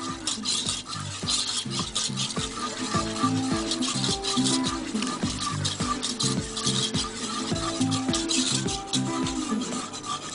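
A wire whisk stirs béchamel sauce in a pot, producing a continuous scraping, rasping metallic swish with a steady back-and-forth rhythm, close and fairly loud with no voices.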